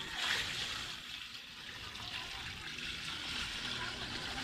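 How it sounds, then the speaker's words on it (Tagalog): Water pours steadily into a cooler, a broad continuous splashing hiss with faint voices in the background. "lagyan natin tubig"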